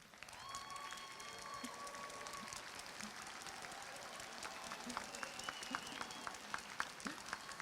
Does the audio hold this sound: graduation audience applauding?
yes